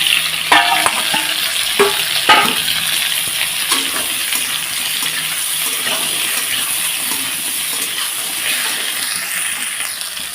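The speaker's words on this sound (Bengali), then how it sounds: "দেখো রসুন লঙ্কাটা আমার লাল হয়ে এসছে এর মধ্যে এখন দিয়ে দেব সেদ্ধ করা কচুটা" Boiled taro dropped into hot oil with frying garlic and chili, then stirred: a bright steady sizzle with scraping spoon clinks and knocks near the start, close and loud throughout.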